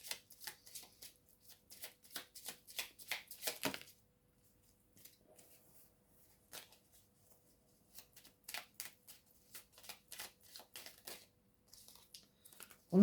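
Oracle cards from a small mirror-hours deck are shuffled for a tarot reading, giving quick papery riffles and flicks in close bursts, a pause in the middle, then more rapid shuffling, with no talking.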